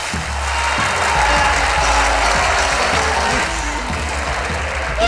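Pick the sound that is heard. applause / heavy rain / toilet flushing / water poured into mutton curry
applause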